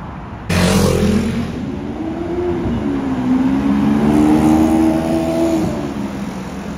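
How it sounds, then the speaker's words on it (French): Audi RS6 ABT with red carbon trim revving hard up close, a sudden loud engine burst followed by sustained rising and falling revs that hold strong throughout. "regardez la violence de cette RS6 ABT avec le carbone rouge"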